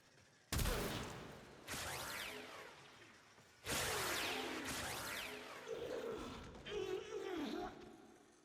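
Weapon blasts in the video game Warframe, with two loud sudden bursts that each trail off into a noisy decay, then more jumbled effects while a voice talks.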